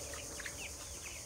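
Quiet clucking of chickens resting at midday on a poultry farm, faint and distant over a steady background hiss.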